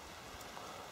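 Steady rain falling outdoors beside a car on a drive, a dense, even hiss of drops that holds at the same level throughout, with no voices.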